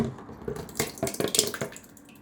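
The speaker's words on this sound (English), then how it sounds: "I'm going to pour it back in here and pour it back in again." A blended mixture is poured back into a container, a brief wet gurgling and splashing stream with small drips and clinks, close and fairly quiet.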